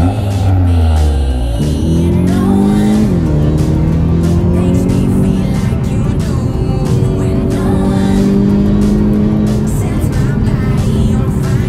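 A Volkswagen T-Roc (2017 onward) with an engine of about one litre drives along, its note climbing and settling through gear changes in a steady, fairly loud, close drone with road noise throughout.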